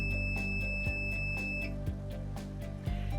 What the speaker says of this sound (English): hold down until the chair beeps at me